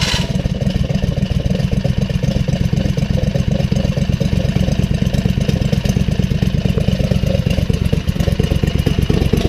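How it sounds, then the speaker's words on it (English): A V-twin go-kart engine with its governor removed runs steadily and loud for the whole stretch, a dense, throbbing mechanical roar with rapid firing pulses and some clatter, heard alone without speech. "Did we blow this motor up, Mike?"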